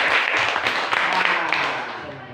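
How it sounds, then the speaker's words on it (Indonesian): A short burst of applause from a classroom group for a student presentation, a brief, busy patter of clapping that fades away within a couple of seconds. "tepuk tangan dulu untuk kelompok 1"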